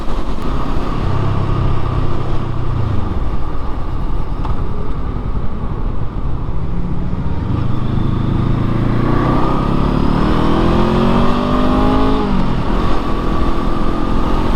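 A Honda SCL500 scrambler motorcycle pulls hard through its gears, its engine note climbing in repeated rising sweeps with short dips at each shift, loud and close throughout.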